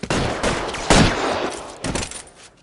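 Gunfire in the L.A. Noire video game on PS4: several loud, close bursts of shots with rapid overlapping reports, clustered in three volleys with brief lulls between them.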